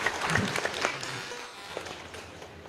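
Brief, fairly quiet applause from an audience at a university orientation event, scattered claps fading quickly into the background of a large hall.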